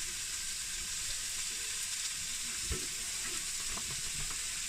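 Salted onions fry in a hot pan with a continuous bright sizzle and crackle close by, broken by one soft knock of stirring partway through.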